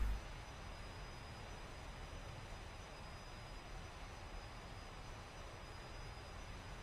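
The engines of a DC-9 airliner spooling down as thrust is reduced in the X-Plane flight simulator: a faint, steady broadband engine roar with a thin high whine, continuous and even throughout, with no talking.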